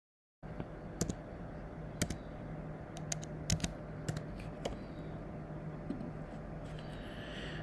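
Password being typed on a computer keyboard while registering on a passport services website, soft scattered key clicks in an uneven rhythm over a steady background hum, fairly quiet and close.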